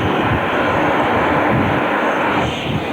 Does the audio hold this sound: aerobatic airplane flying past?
yes